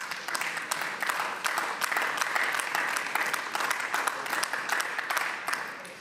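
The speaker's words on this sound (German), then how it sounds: "Applaus" Sustained applause in a parliament plenary session in the Berlin state assembly, dense steady clapping from many hands throughout, fairly close and even before tapering slightly at the end.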